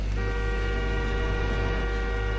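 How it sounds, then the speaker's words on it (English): A car horn sounds a long, steady honk in the Far Cry 5 video game, holding one unbroken blare for the whole stretch over low engine rumble, with no talking. "Honk the horn!"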